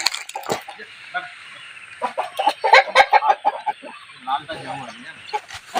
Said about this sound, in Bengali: আমি আপনাদের এখন ওই কালো খড়িয়া মোরগটা দেখাবো।